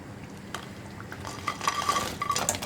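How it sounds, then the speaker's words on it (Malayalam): Tapioca is stirred into thickening gravy in a pan for chilli tapioca, giving soft scraping and light clinks of a utensil against the pan, with quiet repeated stirring strokes close by. "ഇനിയിപ്പോൾ ഞാൻ ഇതിലേക്ക് കപ്പ ചേർക്കാൻ പോവാണ്"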